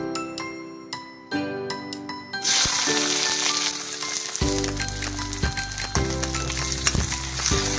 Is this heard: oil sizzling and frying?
yes